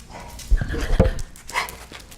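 A young Shepherd mix dog barks in a few short bursts with a faint whimper, close by, amid some background noise and no clear talk.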